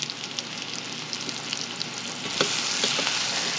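Apples and crushed chiltepines fry in a pan, giving a steady close sizzle with small crackles and a stir that swells the hiss near the end.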